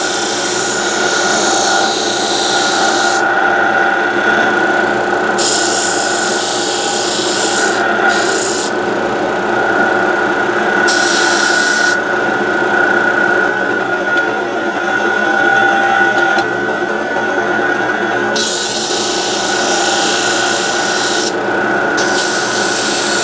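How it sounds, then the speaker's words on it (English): A disc sander grinds continuously against a workpiece in a guitar repair shop, a loud, steady rasping rub that swells and eases as the piece is pressed on and lifted, with no talk. "We'll just hit this on the disc sander."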